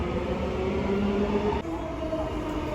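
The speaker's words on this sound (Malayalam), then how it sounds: "ഇതാ നമ്മളെ മെട്രോ വരുന്നുണ്ട്" A Dubai Metro train rumbles loudly and steadily nearby as it arrives at the station, with a droning electric hum and a slight shift in tone partway through.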